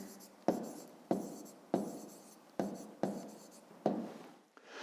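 Pen strokes on paper while an answer is written down for a fifth-grade maths exercise: six quick rhythmic scratchy strokes about half a second apart, close and soft, with no talk.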